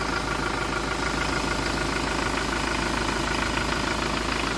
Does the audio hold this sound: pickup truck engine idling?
yes